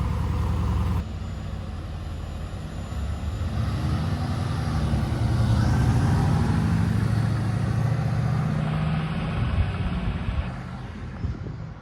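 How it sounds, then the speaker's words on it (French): A Mercedes-AMG GT engine fires up and settles into a deep, rumbling idle that swells and eases, heard outdoors while carspotting in Deauville. "Et là on a un petit start d'AMG GT."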